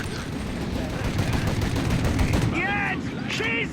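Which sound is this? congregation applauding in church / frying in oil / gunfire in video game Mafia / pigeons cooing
gunfire in video game Mafia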